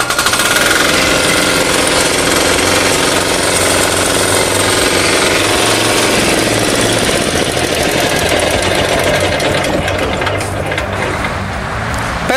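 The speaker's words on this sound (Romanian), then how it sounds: "apoi tragem de sfoară și motorul va porni." The single-cylinder KAMA diesel on an HGT ride-on 4x4 minitractor runs with a harsh, rapid knocking clatter, loud and close, with no voices.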